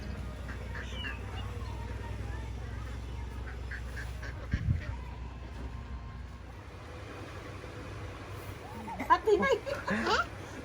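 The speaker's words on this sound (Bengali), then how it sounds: "এখানে হাঁসগুলা দেখেন রোদ পোহাচ্ছে" Ducks basking in the sun near leftover monsoon water, with a few soft quacks in the background under a low outdoor rumble, and a brief burst of louder bird calls near the end.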